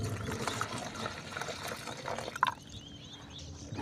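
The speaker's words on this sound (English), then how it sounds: "So I'll pour in my fungicide here, and I'll mix with a little water." Fungicide and water are poured into a small container, giving faint trickling and splashing with a few sharper drips and a brief louder splash near the middle, over quiet outdoor background.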